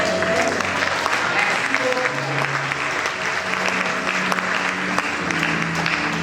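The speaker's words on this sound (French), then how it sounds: "Ces petites acclamations, c'est pour moi." An audience of women at a religious gathering applauds with light cheering, a dense steady clapping that carries on throughout while voices call out underneath.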